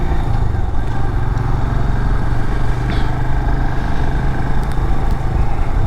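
A Royal Enfield Himalayan motorcycle pulls away in second gear, its engine a steady, loud low rumble close by that holds evenly throughout with little change in pitch.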